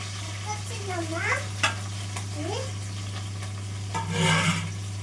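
Spices sizzle and fry in hot oil for a lentil sambar, with steady crackling, scraping stirs and a brief louder hiss near the end over a constant low hum.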